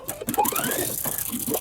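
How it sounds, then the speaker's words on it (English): A sewing machine stitches a seam allowance down on a cardigan, giving a short, fairly quiet mechanical whir with a brief rising whine. "And we're gonna stitch that seam allowance down to the wrong side of the cardigan."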